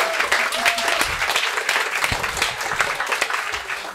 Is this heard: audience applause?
yes